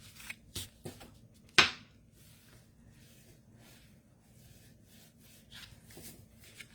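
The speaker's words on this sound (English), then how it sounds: "then this one I'm going to burnish this way because it's going to open up" A folded paper card is burnished by hand in soft, faint rubbing strokes. One sharper scrape stands out among the sparse, quiet swishes and taps.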